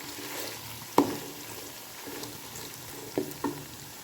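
Vegetables being stirred in a cooking pan while making spaghetti, with soft sizzling under a few sharp scrapes and knocks of a utensil against the pan, fairly quiet and close.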